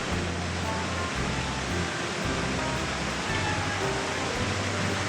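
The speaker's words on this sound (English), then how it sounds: "That's a waterfall." Steady broadband rush of the waterfall along Castaway Creek at Typhoon Lagoon in Disney World, a constant loud wash of falling water with low rumble beneath and faint voices mixed in.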